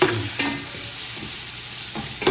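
Sliced onions frying in hot oil for a Thalassery dum biryani, a steady sizzle with a few sharp scraping stirs near the start and end of a short stretch, close and moderately loud.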